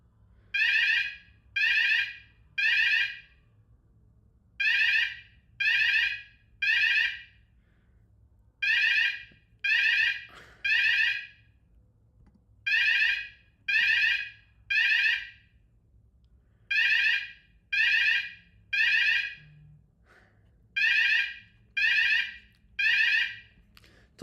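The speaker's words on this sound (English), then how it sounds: "the alarm of the building." A building fire alarm sounds in repeated groups of three loud tonal beeps with short pauses between groups, steady and piercing over a low indoor hum, with no one talking.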